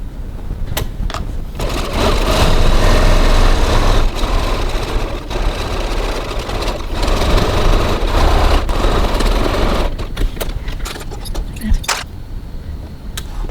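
A sewing machine running a second line of stitching along a cross-body bag seam, loud steady motor whir for long stretches with brief pauses and clicks near the end, no voices.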